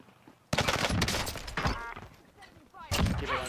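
Rapid gunfire in the video game Call of Duty Warzone sounds in loud, dense sustained bursts, with a player's voice speaking over the shooting.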